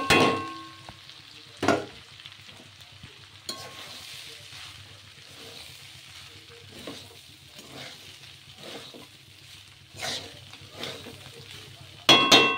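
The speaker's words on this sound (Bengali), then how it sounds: "চিড়েটাকে ভালো করে মিশিয়ে নিচ্ছি।" Soaked poha and fried mixed vegetables are stirred together in a pan, giving soft sizzling under intermittent scraping and louder metallic clanks of the spatula, scattered irregularly across about twelve seconds of quiet kitchen sound.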